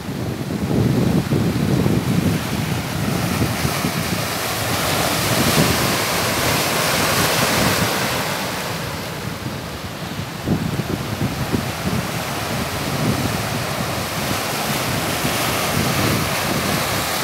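Ocean waves break continuously on the shore at Boca del Río, Veracruz, a steady loud roar of surf with gusts of wind buffeting the microphone and no voices.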